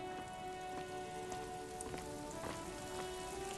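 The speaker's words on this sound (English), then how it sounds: "Oh, it's raining." Rain in the video game Disco Elysium falls as a steady, even patter of drops on surfaces, with a faint drifting musical tone underneath and no one talking.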